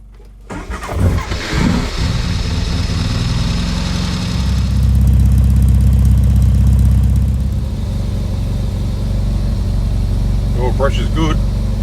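A classic Mini engine cranks and catches, then settles into a steady, rumbling idle close by, with a faint rattle near the end.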